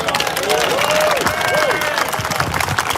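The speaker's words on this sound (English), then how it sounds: "Give them a round of applause." Sustained applause from a large crowd at a reparations rally, dense and loud, with a voice calling out above the clapping.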